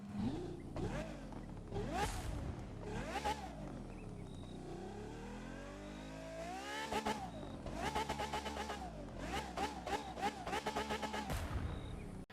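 The high-revving engine of a Ferrari F12tdf in the video game The Crew 2 roars repeatedly, climbing and dropping through the revs with sharp gear shifts, loud and close.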